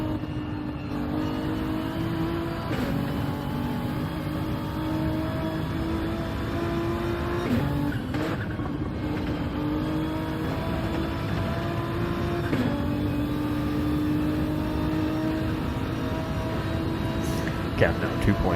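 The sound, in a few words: race car engines at Le Mans in a racing video game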